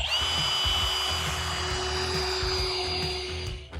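A power drill bores into a silage pit to take a feed sample, giving a steady, loud motorised whine with a sustained high tone, running continuously close by with no talk.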